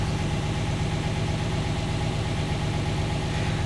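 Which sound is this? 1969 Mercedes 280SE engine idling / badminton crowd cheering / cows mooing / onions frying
1969 Mercedes 280SE engine idling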